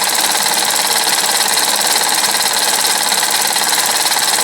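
A horizontal steam engine runs at fairly high RPM, with the boiler fire burning hard. The sound is a loud, steady, fast mechanical chatter and hiss that holds constant throughout, close up, with no voices.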